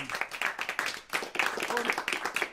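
An audience claps and applauds steadily at a winter jazz festival held indoors, a dense, continuous patter of many hands, moderately loud and without talk.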